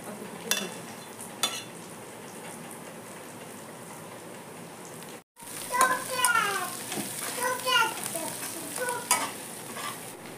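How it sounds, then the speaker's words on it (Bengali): Onion, garlic and green chili fry in a pan with a steady close sizzle, broken by a brief cut midway, then continuing with scraping stirring strokes and crackling spatter. "পেঁয়াজ রসুন কাঁচা লঙ্কা ভাজা হয়ে গেছে"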